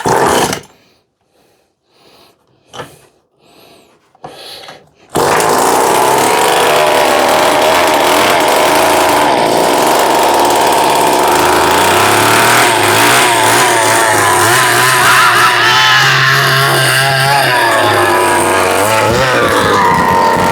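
A two-stroke gas-powered cordless drill engine starts after a few faint knocks and runs loud and steady for about fifteen seconds, its pitch rising and falling as the throttle is opened and eased.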